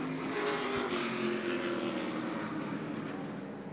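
MidAm race cars roar around Rockford Speedway during a heat race. Loud engine noise holds steady and close, then slowly fades as the cars pass.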